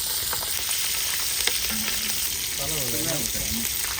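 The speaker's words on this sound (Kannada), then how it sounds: "ಎಣ್ಣೆಗೆ ಹಾಕ್ತಾ ಇದ್ದೀವಿ ಹಸಿಮೆಣಸಿನ್ಕಾಯಿ." Green chillies sizzle in hot pure peanut oil for a chicken sambar, a loud, dense, continuous frying hiss up close, with stirring and brief faint voices in the background.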